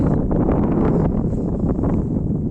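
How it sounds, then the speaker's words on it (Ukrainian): Steady wind buffets the microphone in an open farm field, a continuous low rumble and roar with no break. "на полі трохи вітер, так що може погано чути буде"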